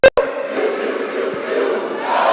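A large crowd at a university commencement roars a chanted response in unison, a loud sustained mass of voices after a brief sharp opening shout.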